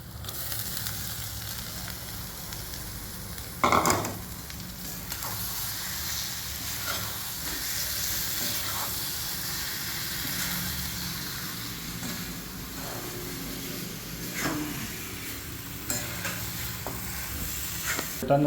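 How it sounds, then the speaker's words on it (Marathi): Cooked mutton is tipped into fried masala for kala mutton and stirred, giving a continuous close sizzle broken by a loud clatter early on and occasional spoon scrapes, with nobody speaking. "आपण आता याच्यामध्ये आपण हे मटण शिजलेलं ॲड करू"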